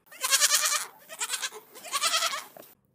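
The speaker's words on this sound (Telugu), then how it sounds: "ఒక రైతు ఆ దారి గుండా వెళ్తూ మేకపిల్ల అరుపులు గమనించాడు." A baby goat bleats in three wavering, fairly close calls with short pauses between them, and no other sounds around.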